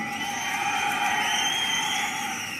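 Dense, steady roar from a large crowd at a BJP political rally in Kurnool, Andhra Pradesh, holding level for the whole stretch with shrill voices mixed in; individual claps are not distinct.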